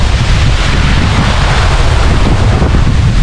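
Loud, constant roar of strong wind buffeting the microphone at the foot of Hulugan Falls in Luisiana, Laguna, mixed with the rushing wash of falling water close by.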